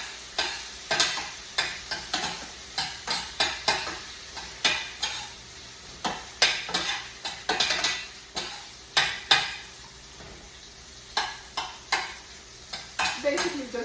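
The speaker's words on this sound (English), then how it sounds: "Basically just letting the tomatoes cook all the way through." Tomatoes cooking through in a pan for Caribbean fish with black bean rice, with repeated close clinks and scrapes of a utensil stirring against the pan over a soft, steady sizzle.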